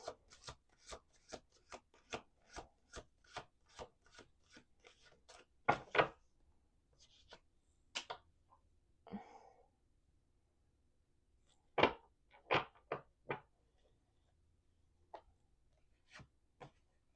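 Tarot cards are shuffled in quick repeated riffles and taps, a rapid run of crisp clicks followed by scattered single snaps and brief pauses, close and quiet.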